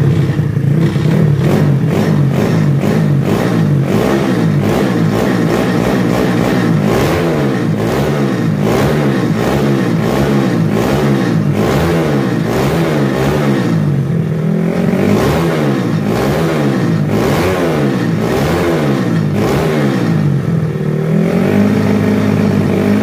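A bored-up 150cc Yamaha Mio scooter engine, running on a jack stand without its frame, revs repeatedly in loud rising and falling blips with a raspy mechanical clatter, close and continuous for over twenty seconds.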